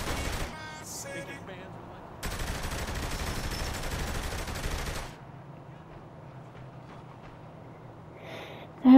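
Gunfire in the video game Saints Row: The Third, bursts of rapid shots with a loud sustained volley in the middle, mixed with game sounds and background noise.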